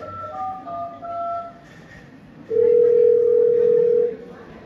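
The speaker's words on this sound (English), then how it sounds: "requests one of the bystanders to call for help by dialing 108" A telephone dials the emergency number 108 during a CPR rescue after an electric shock: a few short tone beeps, then a loud, steady, sustained tone lasting over a second.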